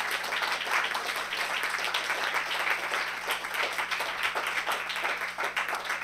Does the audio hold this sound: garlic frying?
no